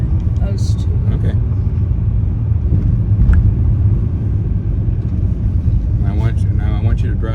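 Low, steady engine rumble and road noise from inside a manual-transmission car driven by a 12-year-old learning stick shift, loud and continuous, with brief voices near the end.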